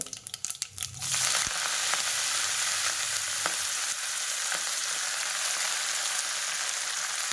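Cumin seeds hit hot oil in a pan during cooking of a quick Marathi-style greens dish, a few clinks and stirs giving way to a loud, continuous crackling sizzle that holds steady throughout.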